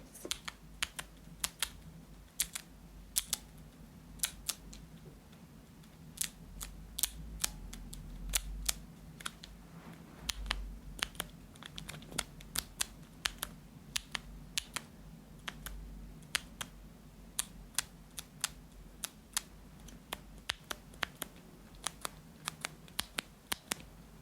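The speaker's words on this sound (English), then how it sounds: "is like a switch tester, so there's different switches in all of these." Keyboard switches on a switch tester click in quick, irregular bursts, sharp close-up clacks repeating steadily over a faint low hum, recorded with a cheap $2 microphone and with no talking.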